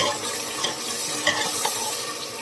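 Masala for a trotters (paya) curry frying in a pot while being stirred, giving a steady close sizzle with a few short scraping strokes of the spoon and no talk.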